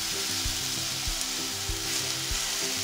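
Bacon sizzling and frying in its own fat in a pan, a steady close crackle with soft rhythmic thumps underneath, no talking.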